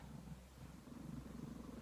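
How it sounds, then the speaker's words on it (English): Humphrey the cat purrs loudly and close by, a steady low rumbling rhythm of soft pulses that continues throughout with no talking. "he's got a loud purr and it's very relaxing"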